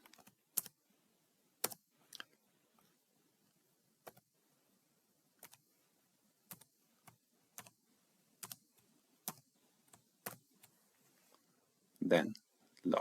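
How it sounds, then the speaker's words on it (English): Keys on a computer keyboard clicked in short, irregular bursts, separate taps spaced over several seconds in a quiet room, ending with a louder clatter. "I type in my data."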